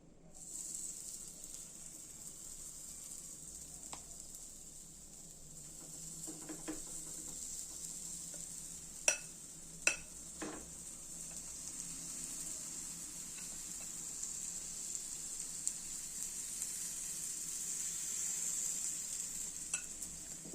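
Puffed rice pancake batter sizzles in hot oil in a pan with a steady, hissy crackle and a few sharp clicks of a utensil. The sound is continuous and close, without speech.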